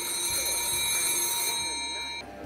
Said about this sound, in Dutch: De oude veldtelefoon.